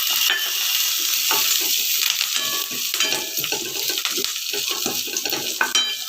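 White sesame seeds roast lightly in oil in a pan for coriander puliyogare, a loud, steady sizzle broken by occasional stirring scrapes, with no voices.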